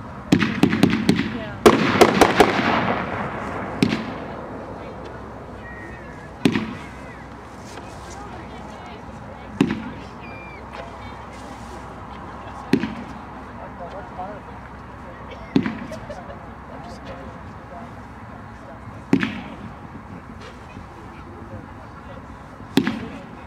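Flying fish fireworks being shot off, a dense crackling and whistling burst at the start followed by scattered sharp pops every few seconds, loud and nearby outdoors, with people talking in between.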